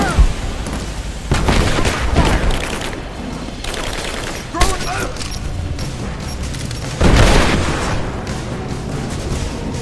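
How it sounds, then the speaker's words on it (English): Gunfire and grenade blasts in the video game Rise of the Tomb Raider, with bursts of rapid shots and heavy booming explosions at intervals, loud and close, mixed with shouted voices. "Grenade out! I got a hit!"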